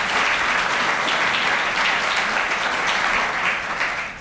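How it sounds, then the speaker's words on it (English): A hall audience at an athletics director announcement gives a sustained round of applause, dense and even clapping from many people that continues throughout and fades slightly at the close. "Let's give all of these folks a great round of applause for their great work that they've done."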